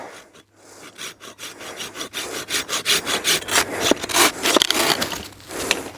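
Hand saw cutting through wood held braced against the leg outdoors, a steady run of rhythmic rasping strokes that grow louder and quicker, close up with no talking.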